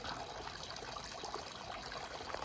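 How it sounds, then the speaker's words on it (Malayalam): Water splashes and trickles steadily into a koi pond in the UK, a constant soft wash of falling water with no voices. "വെള്ളം വീഴുന്നൊരു സൗണ്ട്"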